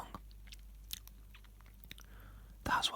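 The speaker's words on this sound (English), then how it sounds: "So I'll just have another biscuit. Sorry if you're not into loud chewing" Someone eating a biscuit close to the microphone, with a few soft crunches and bites over quiet background noise. A louder burst of crunching comes at the end.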